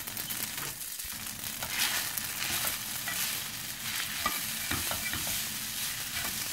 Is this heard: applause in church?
no